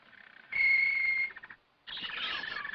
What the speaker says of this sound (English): A canary, you said, and my dear little birds at once answered for themselves.